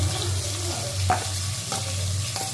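Whole garlic cloves hitting a hot pan with chopped onion, sizzling and frying steadily while a utensil stirs with a few scraping clinks.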